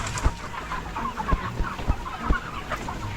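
Chickens cluck in a busy flock, with soft overlapping clucks and a few sharper calls against a steady farmyard background.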